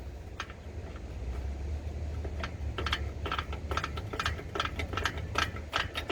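Irregular light mechanical clicks of a rear drum brake adjuster on a Ford truck tick away over a low, steady background rumble, close by and fairly quiet.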